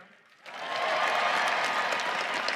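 After a brief quiet moment, a large crowd at a university commencement ceremony breaks into loud, sustained applause that keeps going steadily to the end.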